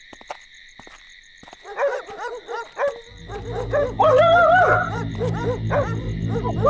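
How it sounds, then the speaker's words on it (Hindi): A pack of dogs barking and yelping together in a dramatized Hindi television scene, starting as scattered calls and swelling into a loud, continuous chorus over a steady tonal hum. "ये अचानक इतने कुत्ते क्यों भौंक रहे हैं?"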